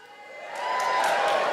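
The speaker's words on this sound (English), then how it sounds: "Give us a cheer if you live alone." Live comedy crowd at a stand-up show cheering and whooping, swelling from a murmur into a sustained loud roar of many voices with scattered shouts, lasting steadily to the end.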